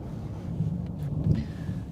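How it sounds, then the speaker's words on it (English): Distant thunder rumbles low and steady through a stormy outdoor camp during a New Mexico elk bowhunting trip, a soft rolling drone without sharp cracks. "And the thunder rolls."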